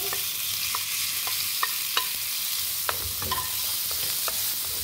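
Minced garlic, ginger and tomato sizzle steadily in a pan while a utensil stirs and scrapes, giving sharp clicks at irregular intervals over the constant frying hiss.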